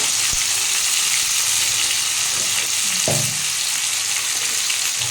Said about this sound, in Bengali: আমি এতে একটু আলু দিয়ে দিয়েছি আলু দিয়ে ভাজবো বলে